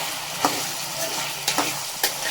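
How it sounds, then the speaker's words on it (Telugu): Onions, potatoes and green chillies fry on low heat in a pan, stirred with a spatula: a steady sizzle runs throughout, broken by three sharp scrapes spaced about a second apart, close and with no voices. "తిప్పుతూనే ఉండాలి గెంటెతో"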